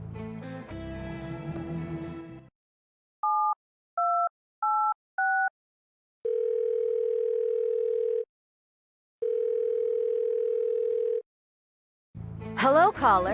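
A telephone in the Thimbleweed Park video game plays a sequence of short two-tone dialing beeps followed by two long, steady busy-style tones separated by silence, clean and close, with a brief burst of other game sound at each end.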